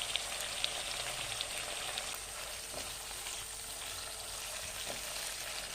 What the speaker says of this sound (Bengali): মিডিয়াম ফ্লেমে মশলাটাকে ভালো করে কষিয়ে নিতে হবে